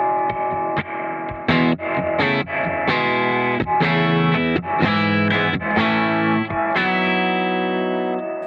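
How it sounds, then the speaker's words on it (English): Distorted electric guitar chords through a Gamechanger Audio Light Pedal reverb, played continuously and loud with dense sustained tails; no clear pause where the reverb swells alone. "As I stop, the reverb comes up."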